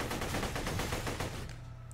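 Rapid automatic turret gunfire from the video game Borderlands: The Pre-Sequel rattles in a dense, loud burst that fades off after about a second and a half.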